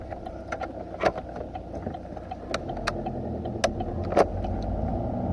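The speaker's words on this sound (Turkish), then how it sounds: "motor yerine göre e, vites değiştirmeyi e, göstereceğim" A diesel car engine hums up close while shifting gears, its low rumble broken by several short clicks and knocks from the gear lever, with no one speaking.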